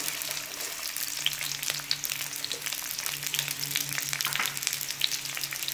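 Onions fry in oil in a kadai with a constant, dense close-up sizzle and crackle, steady throughout with a faint low hum beneath.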